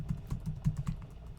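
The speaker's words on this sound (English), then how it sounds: "you're going to type jeffco.schoology.com" Keys clacking on a computer keyboard as a web address is typed, a quick irregular run of close, light taps with no talking.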